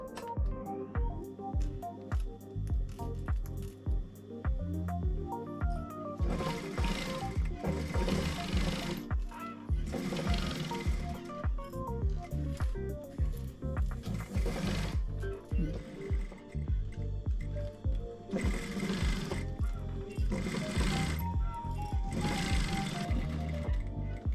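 Close sewing machine stitching pieces of a makeup bag, with repeated bursts of rapid mechanical whirring separated by pauses and a loud hum throughout.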